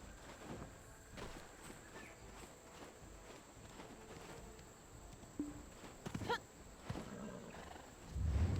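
A horse in Black Desert Online gives a short whinny among soft hoof steps and game ambience, fairly quiet, with a louder rumble near the end.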